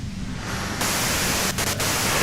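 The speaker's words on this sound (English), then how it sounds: "If you've got something really important to say, you can do it through the white noise" A radio in the video game Disco Elysium hisses with steady white-noise static. It thickens abruptly partway through and is broken by a couple of brief crackles.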